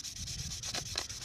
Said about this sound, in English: we just keep sanding and sanding and sanding until it gets really, really smooth